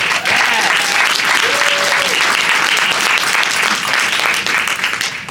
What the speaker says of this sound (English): Let's give Devonna a round of applause.